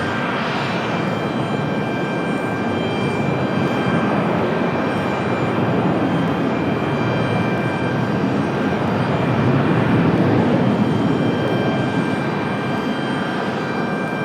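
A Delta airliner arrives at Raleigh-Durham airport, its engines making a steady loud broadband roar that holds evenly and swells a little near the end.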